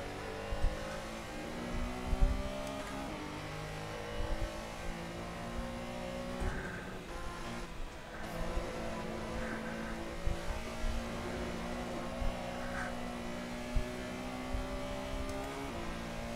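Porsche Carrera Cup race car engine in a sim racing game, a steady droning engine note with rising and falling pitch through gear changes, occasional sharp clunks, no talk over it.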